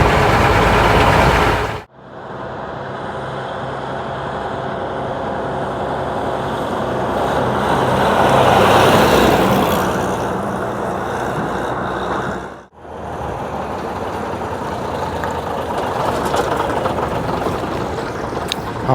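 The engine of a 1958 Leyland PD2 double-decker bus with manual transmission drones loudly and steadily, its pitch rising as it pulls away, with two brief gaps where the sound drops out, and no one talking.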